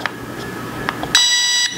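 A few short electronic beeps from a mini drone at first, then a sustained high-pitched electronic tone that holds for about half a second and cuts off, close and fairly loud.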